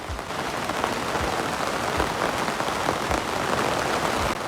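Heavy rain pours down outdoors, a dense steady hiss of drops striking surfaces with occasional heavier splats, loud and close throughout, with no voices.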